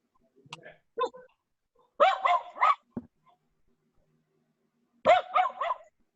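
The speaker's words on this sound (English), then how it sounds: "Whose dog is that?" A bull puppy barks in short bursts, several quick yips and barks in clusters, fairly close, amid an otherwise quiet room.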